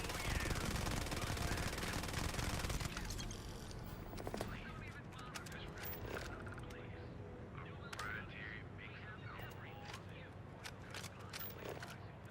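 Sustained automatic gunfire in the Starfield video game, a dense loud burst up front that thins into scattered shots and impacts under ongoing game sounds.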